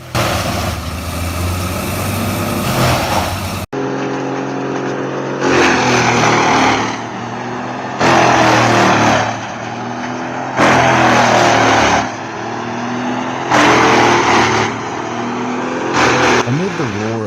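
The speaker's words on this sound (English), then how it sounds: "Amid the roar of engines and swirling with dust, the loader and chipper work together in perfect harmony" A wood chipper and loader chipping a giant tree roar loudly and continuously, the engine note surging in repeated bursts every couple of seconds as wood is fed in.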